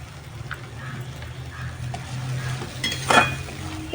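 Onions and ginger paste fry in a pan, a soft steady sizzle under clinks and scraping as a spoon stirs them, with one brighter clatter near the end.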